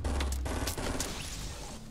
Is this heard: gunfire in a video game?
yes